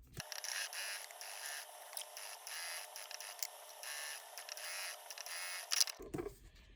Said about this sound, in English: we are going to top stitch along the top edge of all of the pieces right at 1/8 of an inch